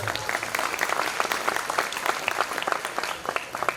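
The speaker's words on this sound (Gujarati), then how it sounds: "નિરાગભાઈને એક વખત જોરદાર તાળીઓના નાદ સાથે વધાવો" A festival crowd at a Khodiyar Mata religious celebration applauds steadily, dense overlapping claps from many hands sustained throughout without talk.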